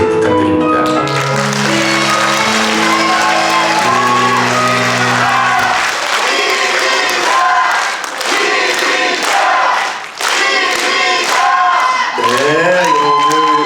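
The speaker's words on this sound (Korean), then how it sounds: "큰 응원의 박수를 부탁드립니다." An audience at a lawmaker's report meeting in a cultural hall in Sangju cheers and shouts loudly after a short musical opening, with some clapping mixed into the crowd noise.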